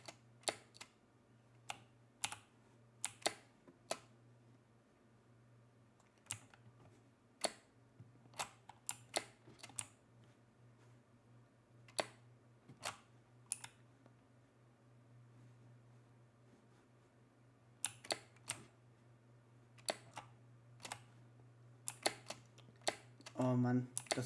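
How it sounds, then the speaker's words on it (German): Mechanical keyboard keys clack in scattered single presses and short bursts during a Minecraft jump-and-run session, sharp and close against a quiet background with a steady low hum. "Und das mit einer mechanischen Tastatur."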